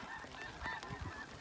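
A flock of young geese honks repeatedly while flying in over a hunting field in Alberta, the calls overlapping and fairly faint at a distance.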